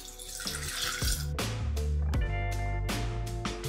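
Water pours and splashes steadily into a bowl of red lentil batter, with a continuous watery rush and some sloshing, close and fairly loud, no voices.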